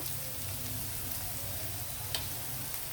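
Cluster beans and potato frying in a pan with turmeric and salt, giving a steady, fairly soft sizzle with a faint low hum beneath and one small clink.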